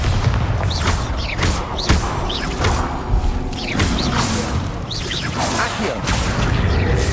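Rapid magical spell blasts in the Hogwarts Legacy video game, a busy run of booming impacts, whooshes and crashes repeating every second or so over low rumbling game ambience.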